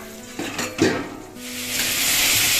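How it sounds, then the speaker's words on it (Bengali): Eggplant sizzles in a hot pan, with a few clattering knocks of a utensil early on before a steady, hissing fry takes over. "বেগুনটা কিন্তু অর্ধেক ভাজা হয়েছে এখনও ভাজতে হবে"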